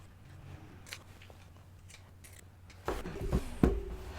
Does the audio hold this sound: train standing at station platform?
no